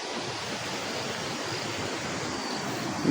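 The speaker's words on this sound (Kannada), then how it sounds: "ಇವಾಗ ನೋಡಿ ಎಷ್ಟು ನೀರು ಜೋರವೆ" Floodwater rushing strongly across fields and a pond after heavy rain, a loud, continuous roaring wash of water close by with no voices.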